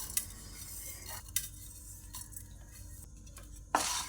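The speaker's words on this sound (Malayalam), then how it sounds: "എല്ലാം കൂടി നന്നായിട്ടൊന്ന് മിക്സ് ചെയ്ത് കുറച്ച് നേരം ഇളക്കി കൊടുക്കുന്നുണ്ട്" Coriander seeds, dal and fenugreek being stirred in a pan for homemade sambar powder, with soft dry rustling and occasional sharp clinks of the spoon against the pan, quiet and close.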